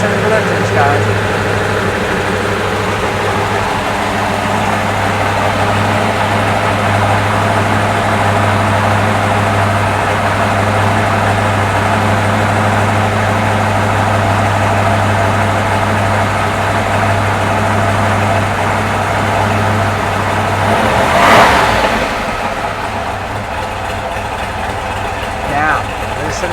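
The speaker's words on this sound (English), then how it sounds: "Now, listen to the sound of that idle." A Corvette 427 V8 idles steadily in a 1960s Chevrolet Impala, a close, deep continuous rumble with ticking lifters, while people talk over it, and a brief louder swell comes near the end.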